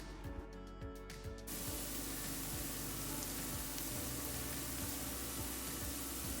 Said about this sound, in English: Now while the veggies are sauteing